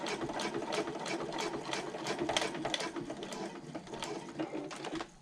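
Sewing machine top stitching a zipper placket on a handbag, a steady fast mechanical chatter running continuously with slight pauses in rhythm, close and clear with no talking.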